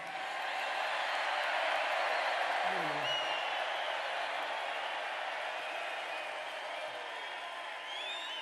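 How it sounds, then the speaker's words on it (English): Crowd at a rally in Allentown, Pennsylvania, cheering and clapping in a steady, dense roar that fills the whole stretch, with murmured voices mixed in. "This is a feisty little crowd, isn't it?"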